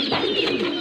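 A pet Shirazi pigeon gives a single short, close coo, with a warbling, throaty call that fills the brief moment.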